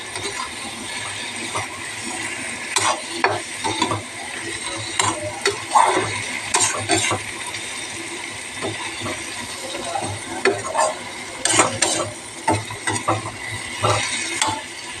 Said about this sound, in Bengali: তাই আমি ঢেলে দিয়ে একটুকে এটা ভালো করে কষাই নেব।